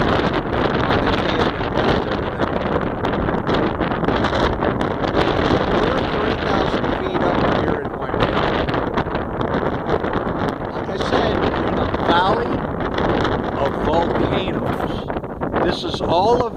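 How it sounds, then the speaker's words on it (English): Wind blows hard through a valley on Hawaii's Big Island, coming from the northeast, a constant loud rushing buffet over the microphone with talk underneath. "The wind's coming out from the northeast."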